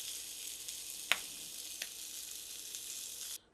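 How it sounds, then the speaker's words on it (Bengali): Fish head frying in hot oil in a wok, a steady soft sizzle with a couple of sharp clinks from turning the pieces, cutting off abruptly near the end. "মাছের মাথাটাকে আমি উল্টিয়ে পাল্টিয়ে ভালো করে ভেজে নিয়েছি।"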